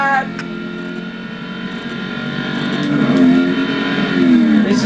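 Ford Shelby Mustang GT500 pulling flat out, the engine note climbing and swelling steadily in volume over a few seconds, close and loud with rising pitch.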